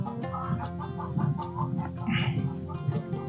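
Chickens cluck steadily nearby at a compost pile, a busy overlapping chatter of short calls with a brief higher squawk midway.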